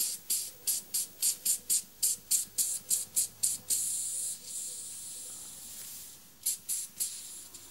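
Compressed air pulsed through a nozzle in rapid, evenly spaced hissing bursts, followed by a longer steady blast, a pause, then a few more short puffs, loud and close with no talking.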